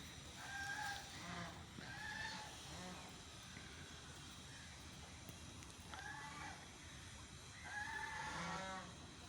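Fancy chickens, including Golden Heavy Buff, Silver Sprite and Light Sussex, cluck in a farmyard, with several faint, spaced calls over low background noise.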